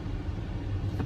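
An Infiniti Q30 S AWD drives along, its cabin filled with a steady low road and engine rumble that holds at an even level throughout.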